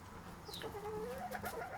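Buff Brahma chickens, a warm beige heavy breed, give short soft clucks and a rising chirpy call, close by and fairly quiet with no talking.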